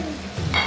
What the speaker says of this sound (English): Followed by your chilies and peanuts and begin stir frying.